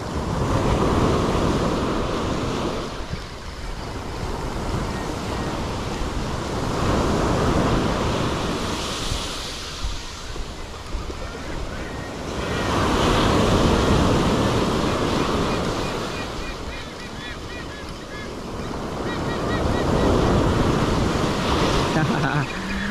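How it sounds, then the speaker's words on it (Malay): Strong sea waves break on a beach at Pasir Panjang, Segari, in repeated loud surges that swell and recede every few seconds, with wind buffeting the microphone throughout. "Alun hari ni cukup padu kan."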